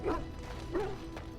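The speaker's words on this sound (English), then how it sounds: "He's barking at me." A dog in the video game Dragon Age: Origins giving two short, gruff woofs close by, spaced well apart over steady background game sound.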